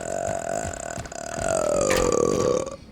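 A man lets out a long, loud, resonant burp on command, a single drawn-out croak that rises toward the end and then cuts off, close and alone.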